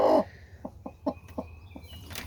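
A broody hen makes a short series of spaced, soft clucks. A louder squawk opens the burst and a rustle closes it, with no talking.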